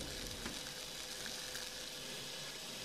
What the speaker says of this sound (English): I gotta get the burgers cooking because these take a while.